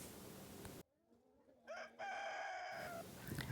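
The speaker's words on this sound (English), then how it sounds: "relaxing and watching the chickens eating their feed" A rooster crows loudly and nearby, a drawn-out call standing out against a quiet background, with some clucking and farmyard bustle around it.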